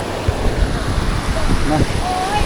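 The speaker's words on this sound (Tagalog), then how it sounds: "Alon." Ocean waves wash and rumble at a fishing spot off Tanza, Cavite, mixed with gusty wind buffeting the microphone and faint voices nearby.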